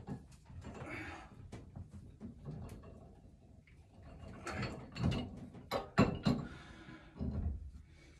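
A wrench cranks a pipe nipple tight on a steam radiator in an 1884 house, making irregular close metallic ratcheting clicks and scrapes in uneven bursts, with sharper louder clanks near the end.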